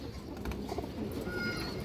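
Pigeons coo softly in a loft alongside a green-necked female pigeon, low rolling calls rising and falling over steady background noise, with no clear voices over them.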